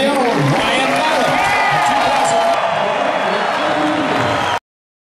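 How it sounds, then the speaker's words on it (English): Applause and cheering from an awards ceremony audience fill the room, with sustained clapping and whoops that stop abruptly near the end. "Fans, let's give a round of applause"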